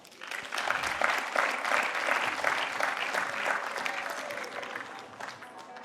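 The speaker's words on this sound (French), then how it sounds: "On peut les applaudir." An audience at a CityLab 2016 project presentation applauds a team walking onto the stage, a full round of clapping that swells quickly, stays steady for several seconds, then eases off slightly at the end.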